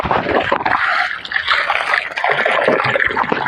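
Water gushes steadily from a motor pump into a tank, a loud, continuous rushing and gurgling heard close up throughout.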